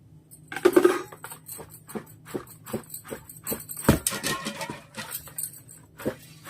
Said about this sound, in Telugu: అడుగు నుంచి తీసి కలపాలి.